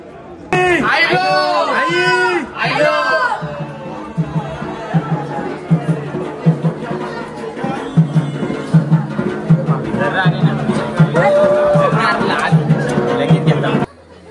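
A dense crowd of devotees murmurs and chatters at Ekvira temple, a continuous hubbub with nearby voices talking loudly over it and occasional shouts rising from the throng.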